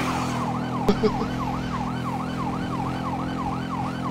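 Police car siren in GTA Online wailing in a fast repeating up-and-down pattern, close and loud over a low engine rumble, with a couple of brief thuds near the start.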